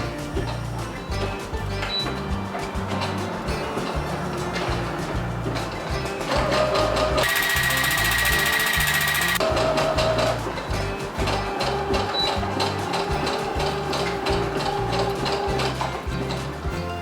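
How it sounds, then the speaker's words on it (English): A sewing machine runs a zigzag stitch through knit fabric, giving a steady, close, rhythmic mechanical pulsing that holds throughout, with a brief brighter whirring burst midway. "you just sew exactly the same way we would with a woven, making sure we back tack at the beginning and the end"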